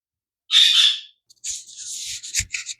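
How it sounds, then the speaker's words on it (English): A loud bird squawks harshly for about half a second, then gives a series of shorter raspy calls and chatter, close and with no voices. "I had to get away from that loudmouth bird"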